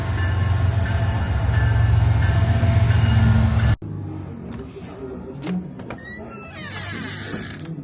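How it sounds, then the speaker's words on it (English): A loud, rumbling steam train roars past close by at a railroad museum for a few seconds, then cuts off abruptly, leaving quieter road and ambient sounds. "And here comes another train."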